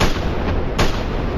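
Boom ammo explodes from a gunshot in the Spider-Man VR game, a dense, loud roar of blasts with a sharper burst in the middle, filling the whole moment without any voices.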